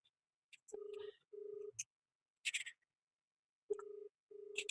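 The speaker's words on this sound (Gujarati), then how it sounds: "આપણે હમણાં વિશાલભાઈ ને ફોન કરીએ" An outgoing phone call rings back in a repeating pattern of paired steady tones separated by pauses, heard quietly and close, with brief clicks and faint sounds between the rings.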